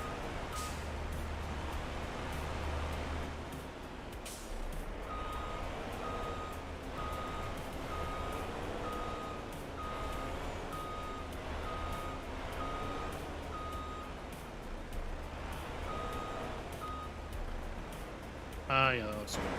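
A truck reversing in Farming Simulator gives off a steady, repeated electronic backup beep over a low engine rumble, with talk running throughout.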